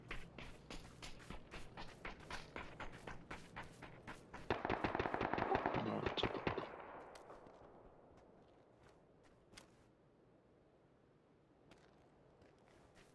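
Gunfire in the PUBG battle royale video game, a rapid burst of sharp cracks forming a dense cluster in the middle, followed by a few isolated far-off shots fading into quiet; a brief spoken word occurs.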